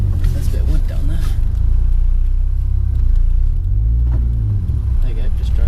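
Nissan 200SX S13 with a 400hp RB25DET engine rolling slowly over a piece of wood on a driveway, a loud low engine rumble that dips and cuts out as it stalls, with voices talking over it.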